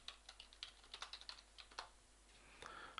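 Faint, close tapping of a computer keyboard as a name is typed, with irregular keystrokes in quick clusters and brief gaps, in a quiet room with no talking.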